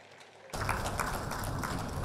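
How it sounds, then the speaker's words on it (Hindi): Applause from an investment summit audience breaks out abruptly after a brief quiet moment and continues as a steady, moderately faint wash of clapping. "एक बार जोरदार तालियां हो जाएं।"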